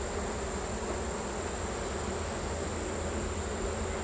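Honeybees buzz thickly around an open hive on a sunny day, a dense, steady drone of many wings close by that holds without a break.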